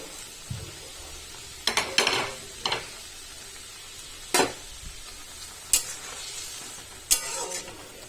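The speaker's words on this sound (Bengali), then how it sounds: "দেখো ঝোলটা ফুটে উঠেছে, আমগুলো সিদ্ধ হয়ে গেছে একদম" Mango sour broth with fish simmering in a pot, with a low steady bubbling bed and a few sharp clinks and stirring knocks from a utensil against the pot, close and without speech.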